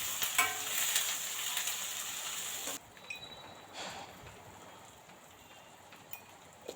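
A tempering for puffed rice upma crackles in hot oil, loud and dense at first, then drops to a quieter, softer sizzle with occasional spatters, close by, with no talking.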